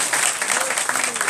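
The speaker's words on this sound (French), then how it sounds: "Applaudissons aussi." Short burst of crowd applause at an RHDP political gathering in Sinfra, dense clapping with voices mixed in underneath.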